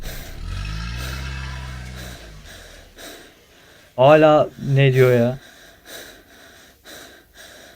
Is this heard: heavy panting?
yes